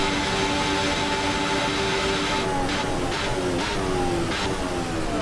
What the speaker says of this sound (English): Especially those downshifts. It's got some weird sort of blowing sound.